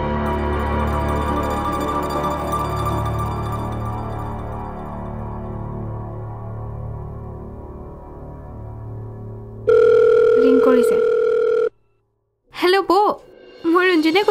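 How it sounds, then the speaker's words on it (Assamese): A phone call tone sounds loud and steady for about two seconds after a stretch of background music, followed by brief pauses and short electronic bursts. "ফোনটো কৰ।"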